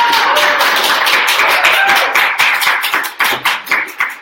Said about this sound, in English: So please join me in a round of applause to welcome.